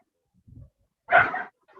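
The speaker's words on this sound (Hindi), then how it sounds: "किसके घर के पास कुत्ता इतना भौंक रहा है?" A dog barks near a house, a few loud, close woofs in short separate bursts, preceded by a softer low sound, with no talking over it.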